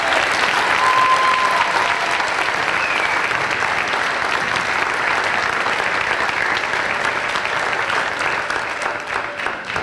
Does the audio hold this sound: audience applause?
yes